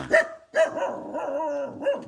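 Dog barking at a forest temple in Thailand, a few loud close barks in short bursts with a pause between them, then a steadier stretch of barking or whining, with no talk.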